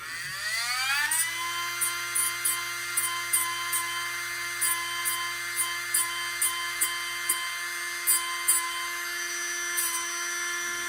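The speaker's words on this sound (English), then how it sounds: "Got my sanding disc on my stylus, and I'm going to sand it down." A rotary tool with a sanding disc spins up to a high, steady whine, then a series of short, rhythmic scratchy bursts sound as the disc is dabbed against a lens hood to smooth rough edges, close and fairly loud.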